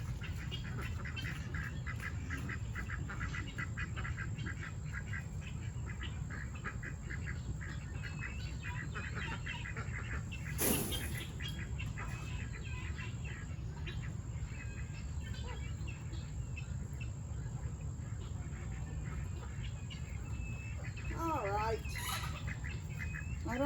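Farm ducks call around feeding time, with scattered quacks and chirps over a steady, moderately loud background hum and noise. There is no clear speech.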